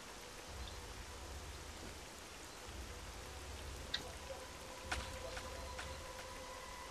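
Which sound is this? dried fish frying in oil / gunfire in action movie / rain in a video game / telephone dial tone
rain in a video game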